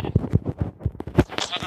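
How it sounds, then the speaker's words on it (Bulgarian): Sheep in the video game Minecraft Education bleat in a quick run of short repeated calls, moderately loud, with a few other blips from the game. "Овце"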